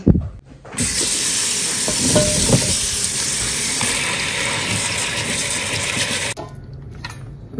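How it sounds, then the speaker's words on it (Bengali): Okra (bhindi) stir-fried in a pan: a loud, steady close-up sizzle with stirring scrapes begins sharply, holds for about five seconds, then cuts off abruptly. "আমি যাই তাড়াতাড়ি রান্নাটা সেরে ফেলি আজকে হবে ভেন্ডি"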